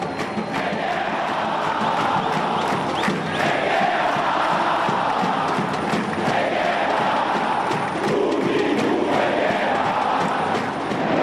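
Brazilian football supporters chant together as one large, dense crowd, a loud and steady roar of voices that holds throughout.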